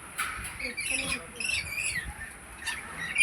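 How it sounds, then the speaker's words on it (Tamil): Sharp, scratchy squawks and chirps from parrots at a bird park in Trichy come in bursts, with a voice talking faintly in the background. "எல்லாத்துலேயுமே கிளி தான்."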